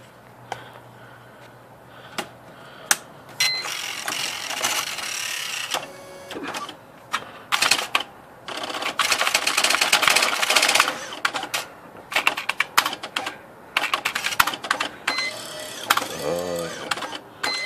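IBM Wheelwriter typewriter under repair for a cracked carrier motor gear, its carrier motor running and shuttling with whirring runs, mechanical clicks and sharp clacks, close and moderately loud, with quieter pauses between bursts.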